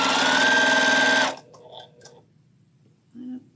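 A sewing machine stitches a log cabin quilt block in a fast, dense run of needle strokes lasting just over a second, close and loud, then stops into near quiet.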